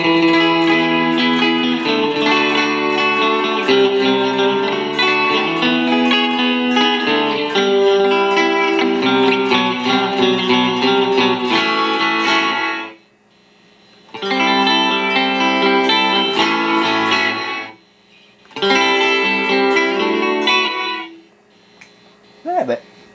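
Electric guitar through an Amplitube 5 reverb effect, played as a dense run of loud, sustained chords with a washy tail, broken by two short pauses where the reverb cuts off abruptly, then a brief final strum.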